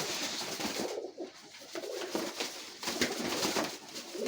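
Giribaz pigeons coo softly amid a rustling, noisy background at a pigeon sale, with low repeated coos rising and falling over a few seconds.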